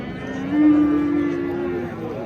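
A single cow at a livestock market lets out a long, drawn-out moo close by, over a faint background murmur.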